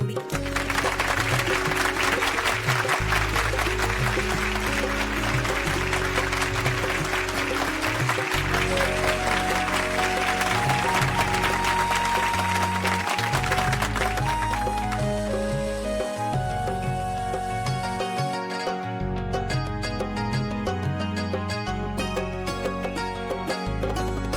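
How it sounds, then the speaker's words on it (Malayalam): Loud, sustained applause from a crowd over steady music; the clapping thins out after about fifteen seconds while the music carries on. "നമ്മുടെ ലിറ്റിൽ മാസ്റ്റേഴ്സിന് ഒരു കയ്യടി കൂടി"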